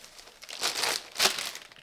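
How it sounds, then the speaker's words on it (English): Plastic bubble wrap packaging around a comic book is pulled and unwrapped close up, giving bursts of crinkling and tearing plastic that swell twice over a couple of seconds. "It's the never-ending mummy wrap of bubble wrap."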